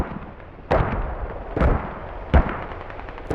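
Three heavy booming mortar impacts in a Squad battle, spaced about a second apart over a low rumbling background, each with a sharp onset and a rolling decay.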